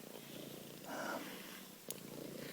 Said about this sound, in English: She just loves to let you brush her, and she's a heavy purrer.